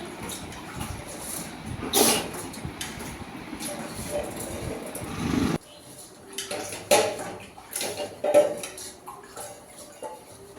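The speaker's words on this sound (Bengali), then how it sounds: "চাল ধুয়ে দিচ্ছি ভাতের হাঁড়িতে" Rice being washed in a cooking pot, with irregular sloshing water, grains rattling and occasional clinks of the pot, some louder bursts between quieter stretches.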